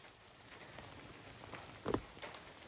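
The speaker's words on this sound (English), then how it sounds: "So it decided to rain on my Saturday" Rain falls steadily outdoors near a tool shed being framed, a soft constant patter with a few louder drips and taps over the course of the shower.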